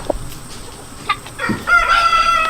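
A rooster crows once nearby, a loud drawn-out call rising over a few soft clucks and faint background noise.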